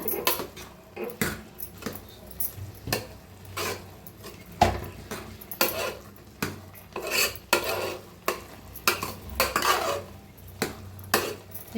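A spoon repeatedly scrapes and clinks inside a metal pot as a traditional village-style mango vegetable curry is stirred, producing irregular close knocks and scrapes throughout with no talking.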